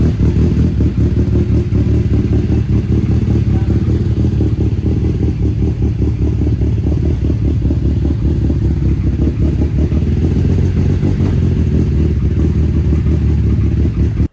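A Datsun 510 with a heavily tuned FJ20 engine running on E85, fitted with big cams and oversized valves, idles loud and close with a lumpy, uneven, rumbling rhythm.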